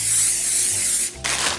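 Cooking spray hisses loudly from an aerosol can onto a pan in two bursts: one long, steady spray, a short break, then a second burst.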